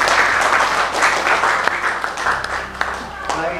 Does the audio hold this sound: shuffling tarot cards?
no